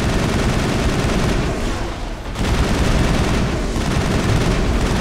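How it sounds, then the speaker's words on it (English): Rapid, dense gunfire from a video game firefight keeps up loud and continuous, easing briefly around the two-second mark before resuming at full intensity, with no talking over it. "Sorry, I shot Liara"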